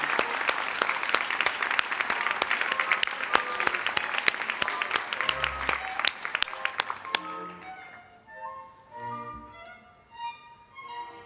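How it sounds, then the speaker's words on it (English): Audience applause at a college commencement for graduating hospitality and hotel management students, steady crowd clapping for several seconds that fades out, followed by a speaker's voice over a hall PA. "A round of applause for our hospitality and hotel management students."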